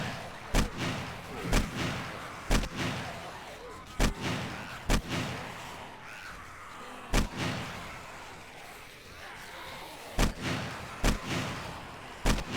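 Gunfire rings out in 7 Days to Die as a player shoots at a feral zombie, sharp shots landing roughly once a second over a steady ambient rumble, each with a thudding boom.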